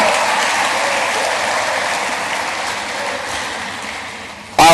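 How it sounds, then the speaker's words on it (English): Colloquium audience clapping for a honored female vice chancellor, a dense, even round of applause that fades slightly before an abrupt louder burst at the very end. "A round of applause for her."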